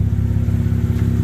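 Mazda RX8 rotary engine idles with the bonnet open after a long warm-up, a loud, steady, close low rumble with a slight pulsing throb and no voices.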